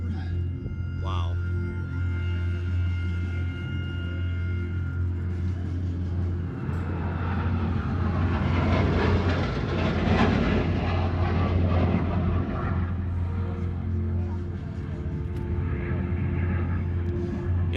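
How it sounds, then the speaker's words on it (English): An F-35 jet and a P-38 Lightning fly together in formation at the Columbus, Ohio airshow, a broad engine roar swelling as they pass overhead and fading again, over a steady low hum from nearby equipment. "F-35 and P-38 Lightning together."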